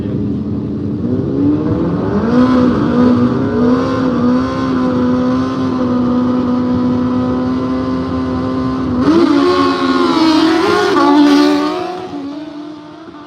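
A race car at a no-prep drag racing event holds a loud, droning engine note that swells into a harder rev before fading as it pulls away.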